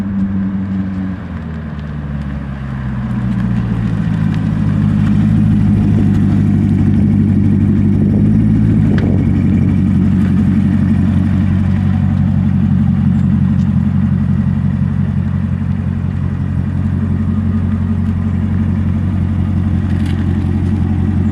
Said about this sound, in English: A guy in a yellow Mustang was just doing donuts in a parking lot.